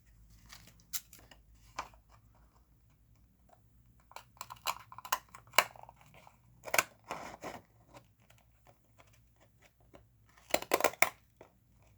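Scissors cutting around craft tape, a series of close crisp snips and crunchy blade closures in irregular bursts, with quiet gaps between cuts and a cluster of rapid snips near the end.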